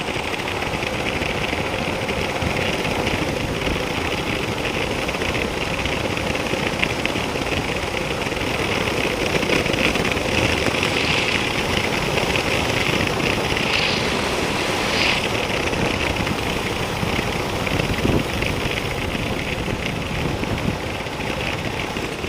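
A tractor engine drones steadily and loudly throughout, a continuous low rumble with no pauses.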